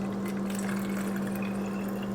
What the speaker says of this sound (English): You fill up with water to the fill line.